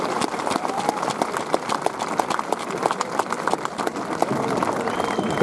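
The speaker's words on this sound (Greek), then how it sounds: "Να τον υποδεχτείτε με ένα θερμό χειροκρότημα." A crowd at an Athens rally against the citizen card gives a former prosecutor warm, sustained applause as he comes to the podium, with dense clapping and a few cheers throughout.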